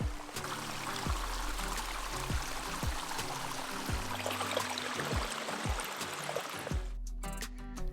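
A small mountain stream flows beside a hiking trail on the climb from Angelus Oaks toward San Bernardino Peak, giving a steady, close babble and trickle throughout, with a brief rustle or step near the end.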